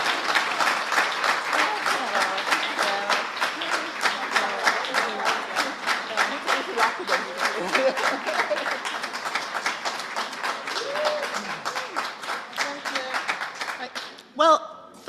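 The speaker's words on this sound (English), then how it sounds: "give them a big applause, because thanks to them, we can have a CAPHRI Day" A research day audience applauds at the closing award session, a dense, even stretch of many hands clapping that runs steadily for most of the time and thins out near the end, with no talk over it.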